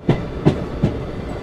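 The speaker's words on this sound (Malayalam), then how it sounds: "കൊല്ലം ജംഗ്ഷൻ റെയിൽവേ സ്റ്റേഷനിലേക്ക് വണ്ടി എടുത്തുകൊണ്ടിരിക്കുകയാണ്" The Parasuram Express rolls toward Kollam Junction, its wheels striking rail joints in three evenly spaced clacks over a low rumbling hum heard from on board.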